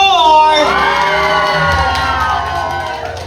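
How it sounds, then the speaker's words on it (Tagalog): A crowd cheers and shouts for a contestant, candidate number four, with high excited voices and whoops swelling then slowly fading over a few seconds. "Palakpak lang, pwede po kasama ang sigaw."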